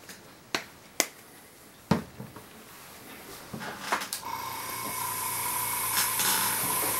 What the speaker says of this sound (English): Sorry about the noise from the compressor.